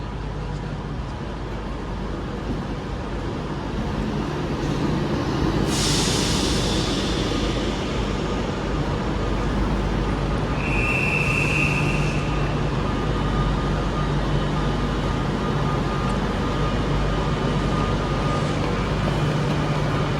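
Class 390 train 390 121 Opportunity arriving at Manchester Piccadilly station, a broad steady rumble that builds and holds, with a brief brake hiss, a short squeal and an underlying station hum.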